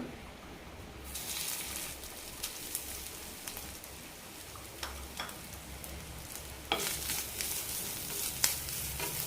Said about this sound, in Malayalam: അരക്കപ്പ് തേങ്ങ നന്നായി വറുത്തെടുക്കാം